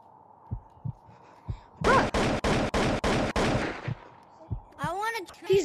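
A sniper rifle in a monkey-themed video game fires a rapid run of about seven sharp, evenly spaced shots in a short burst, while people talk and chatter around it.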